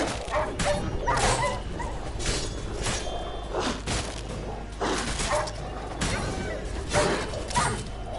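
Stray dogs from The Witcher 3 video game bark and yip repeatedly in a rapid, overlapping run, loud and close, with whimpers mixed in over a dense, noisy in-game background.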